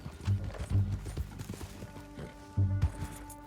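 In Red Dead Redemption 2, horse hooves clip-clop in uneven bursts of hollow thuds, close and moderately loud, with a short pause before another cluster of steps.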